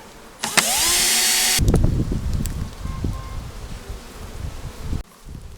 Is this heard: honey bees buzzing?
yes